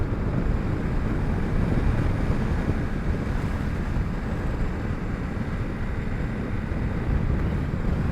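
A strong headwind roars steadily past a rider on a Honda CRF 300 Rally motorcycle on an open road, a loud, unbroken wind rush buffeting the microphone with no other sounds standing out.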